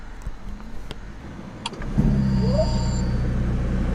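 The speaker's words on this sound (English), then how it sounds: "And the engine goes on." After a few quiet clicks and a brief whir, a Ferrari SF90 engine catches and settles into a steady, low idling rumble close by.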